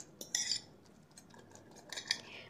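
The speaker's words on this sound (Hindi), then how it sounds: "फ़ोर्क की मदद से आपने इसको अच्छी तरह फेंट लेना है" Fork beating a spiced mixture in a bowl, a few quick faint metallic clinks and scrapes in short bursts against a quiet background.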